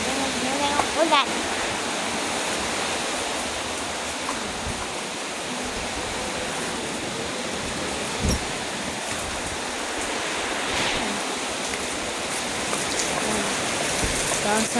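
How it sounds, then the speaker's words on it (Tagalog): Heavy rain pours down in a dense, constant roar that stays loud and even for the whole stretch, with a few brief knocks and a voice speaking faintly beneath it. "Maririnig nyo na yung ulan."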